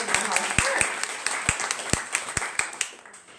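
Scattered, uneven clapping from a small live audience at a talk event, sharp individual claps rising over a soft room murmur for a few seconds rather than a full ovation.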